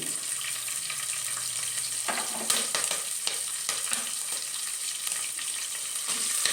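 Curry leaves and green chillies fry in a hot pan with a steady, loud sizzle and crackle, broken by sharp spatters and stirring clatter throughout, with no voices.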